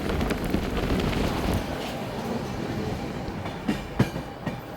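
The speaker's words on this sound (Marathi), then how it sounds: "निसर्गाचा कुशीत असं कोकणामधून छान अशी ट्रेन चालली आहे" A train on the Konkan Railway rolls steadily along the tracks in light rain with a continuous rumbling hiss and a few sharp clacks toward the end, heard from close by.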